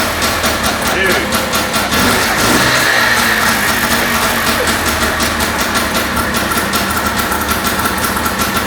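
A Yamaha Banshee two-stroke engine runs loudly indoors, its ragged idle swelling into revs throughout, with voices faintly underneath.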